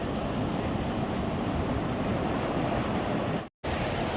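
Ocean waves washing onto Maengbang beach in a continuous broad rush of surf with wind, loud and close, with a brief dropout near the end.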